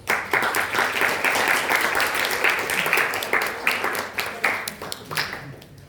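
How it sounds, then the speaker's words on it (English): An audience applauds at a school talk event, steady dense clapping filling the room for several seconds before thinning out near the end. "Let's give him a round of applause."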